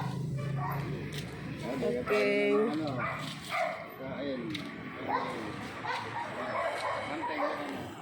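A dog barks and yelps a few times in short bursts amid nearby conversation.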